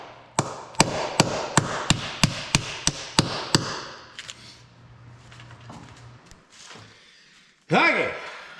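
Light hammer taps come in a steady run of about ten evenly spaced sharp knocks, then stop, followed by quieter handling noises and a brief louder burst of activity at the end.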